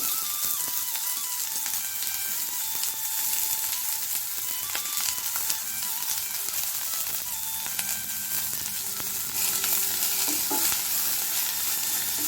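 Chopped onion with crushed ginger and garlic frying in hot oil for a soya chunks kurma, a steady close sizzle with scattered stirring scrapes throughout, no talking.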